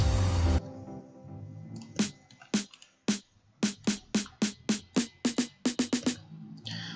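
After a brief burst of sound, single snare drum hits start spaced apart and grow quicker and quicker into a build-up roll.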